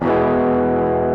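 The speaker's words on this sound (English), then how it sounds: "I've got a little bit of distortion on my guitar" An electric guitar with distortion rings out a single sustained, gritty chord, loud and close, holding steady for about a second with no talking.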